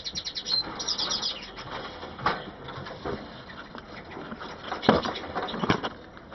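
A canary's wings flutter in quick bursts, with a few sharp chirps and cage rattles, close by and moderately loud.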